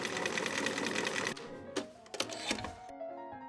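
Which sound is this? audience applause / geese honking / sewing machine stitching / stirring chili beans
sewing machine stitching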